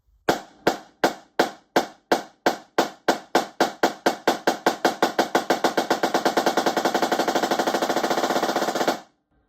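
Single-stroke rudiment on a drum played with sticks, starting with slow, evenly spaced hits that steadily speed up into a fast, dense roll before stopping abruptly, with no talking.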